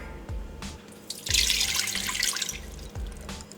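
About a cup of water pours into an Instant Pot for hard-boiled eggs, a splashing stream lasting roughly a second, framed by soft clunks of handling before and after.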